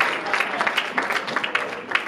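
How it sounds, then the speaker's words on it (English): Steady applause from a crowd, a dense patter of many hands clapping at once, fairly loud and sustained throughout. "Everybody round of applause."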